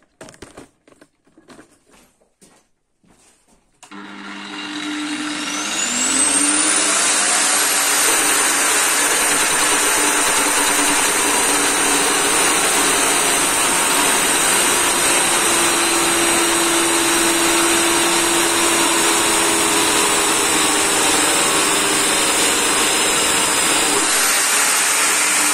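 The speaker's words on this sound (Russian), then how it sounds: "Прорезаем до половины и перекидываем на другую сторону." A power tool cuts halfway into a metal washer blank, a loud steady whine and grinding hiss that starts after a few seconds of quieter handling noise and runs on unbroken.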